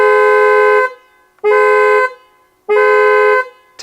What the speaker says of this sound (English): This car has a very distinctive horn.